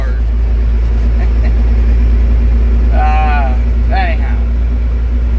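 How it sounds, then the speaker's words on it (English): Road traffic with fast and slow trucks and cars passing, a loud constant low rumble of engines and tires with a couple of brief whining tones rising above it. "Fast trucks, slow trucks, fast trucks, slow trucks, fast cars, slow cars."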